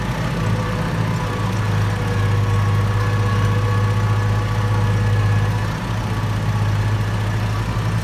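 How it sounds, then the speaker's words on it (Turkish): A farm tractor engine runs steadily during crop drying work, a loud, constant low rumble with a droning hum that holds without change throughout, close by, with no voices. "Kendine giden traktör."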